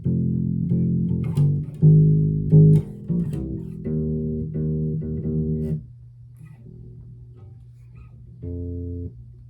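Electric bass plays a bass line, a run of sustained low notes repeated in short groups with a brief pause before a final held note, played alone and close.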